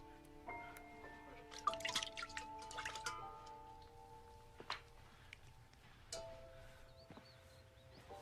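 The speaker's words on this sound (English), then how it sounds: "This is water." Water drips in a quiet room in a scene from the film The Miracle Worker: scattered, faint droplets fall irregularly, with soft ringing tones lingering between them.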